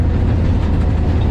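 Hazara Express passenger train running on the main line railway track between Havelian and Rawalpindi, heard from inside an AC carriage as a loud, steady low rumble of wheels and rails with no talk.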